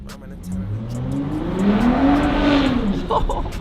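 A 2024 Ford Raptor pickup truck engine revs up and holds a rising, throaty roar before easing off, loud and close, with a faint voice underneath.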